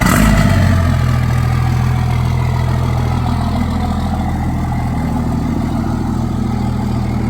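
A Jeep engine idles and runs steadily up close as the vehicle turns around, a loud continuous low rumble with a slight clattery edge and no talk.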